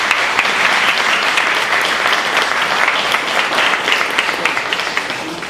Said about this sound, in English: So let's give them a final round of applause.